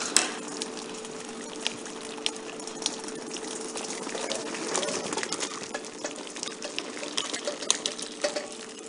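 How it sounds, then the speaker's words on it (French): Dye bath pours from a saucepan into a colander, splashing steadily for several seconds, with occasional clinks and drips, nearby. "on va tout simplement verser la casserole dans la passoire"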